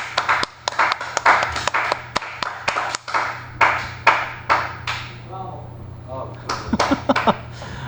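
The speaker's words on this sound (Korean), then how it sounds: "박수." A small class claps in a rhythmic run of sharp, separate hand claps close to the microphone, pausing briefly midway and then picking up again, with a low hum beneath.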